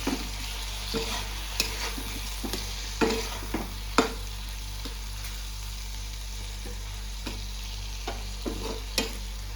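Tomato chutney cooks in a covered pan, giving a soft steady sizzle with a few sharp clinks and knocks of a spoon or lid spaced through the clip, with no talking.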